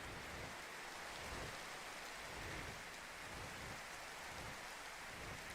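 Steady rain with low rolling rumbles of thunder in the video game Minecraft, a continuous hiss of falling drops throughout with no talk over it.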